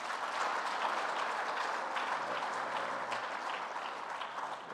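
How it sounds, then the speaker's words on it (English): Audience applause for children at a memorial lecture event, a steady, dense wash of clapping from a crowd filling the whole stretch at even loudness, tapering slightly at the end. "Let's give our children here another round of applause."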